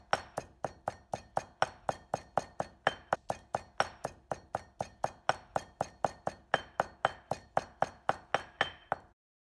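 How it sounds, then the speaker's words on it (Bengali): Fried moringa leaves and fish are pounded for vorta with steady, evenly spaced knocks, about three per second. The hard, clinking thuds continue for around nine seconds and then stop. "ভাজা পাতা আর মাছগুলো ছেঁচে নেবেন, আবার একটু ছেঁচে নেব।"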